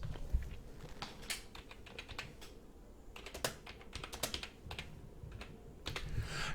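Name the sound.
typing on a computer keyboard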